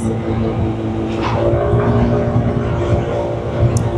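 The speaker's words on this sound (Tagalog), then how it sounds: "Medyo nababother lang ako dito sa motor. It's because medyo maingay yung makina." A noisy engine on a second-hand motor scooter in Taiwan idles and runs with a steady rough drone, loud and close, holding an even tone with slight swells throughout.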